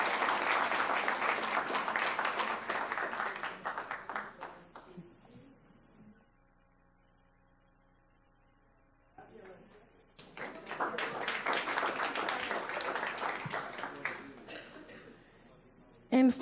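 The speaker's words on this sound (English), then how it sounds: "Let's give everyone a round of applause." A school board meeting audience in Palm Beach County breaks into sustained applause, which fades into a quiet stretch with a faint voice. A second loud burst of clapping follows and tapers off near the end.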